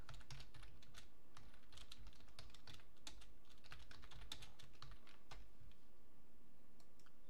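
Typing on a computer keyboard while working in an AmigaOS desktop program, a steady run of light, rapid key clicks with brief pauses, close and alone without any voices.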